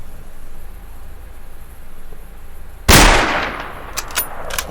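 Single loud gunshot from a powerful rifle in the game Stalker Call of Pripyat, a sharp crack with a decaying tail and a few faint clicks after, over a low ambient hum.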